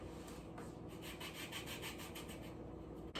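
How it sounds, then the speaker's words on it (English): A small zester grates fresh lemon peel in a home kitchen, producing a steady run of soft, rapid scraping strokes close up, with no talking. "some fresh lemon zest. And my little zester."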